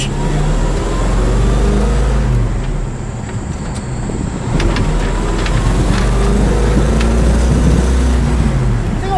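A 1963 Ford Falcon Futura's 260 cubic inch V8 with a four-speed rumbles and revs hard, a deep throaty roar building as the car accelerates, loud and close throughout.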